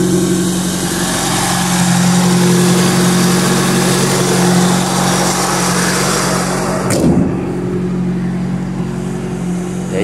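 A restored Fiat 147 car engine runs at a steady idle with a constant low hum throughout, close and fairly loud, with a brief bump near the seventh second.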